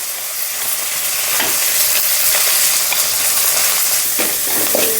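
Coarsely crushed garlic paste fries with cumin seeds in hot oil in a pan, giving a loud, continuous close sizzle and hiss with occasional scraping stirs.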